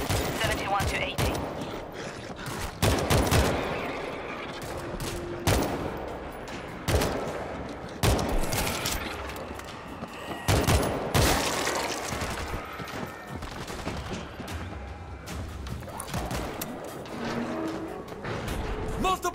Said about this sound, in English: Multiple sentry guns! Two!